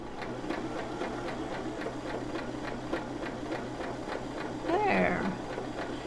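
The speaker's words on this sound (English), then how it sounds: "you are sewing" A sewing machine stitches fabric in a quiet room, a soft rapid regular whirring with faint clicks, and a voice speaks briefly near the end.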